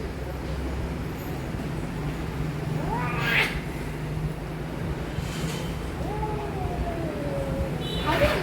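A kitten meows twice, a short rising call and then a longer drawn-out one, fairly close against a steady background hiss.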